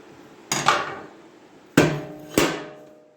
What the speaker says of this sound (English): What I had to use is a screwdriver. Get in there, pry it up.